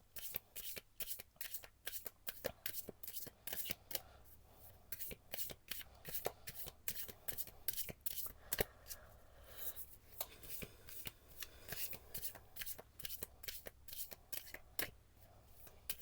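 A deck of oracle cards is shuffled by hand, making rapid, close riffling flutters and soft slaps in continuous bursts throughout, with no talking.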